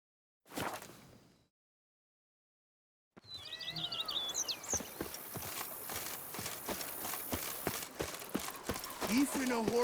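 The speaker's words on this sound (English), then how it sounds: "Even a horse drops if you ride it at a constant gallop." Horse hooves pounding at a gallop in The Witcher 3 video game, a steady clip-clop rhythm running continuously under music and ambient game sound after a brief voice and a short silence at the start.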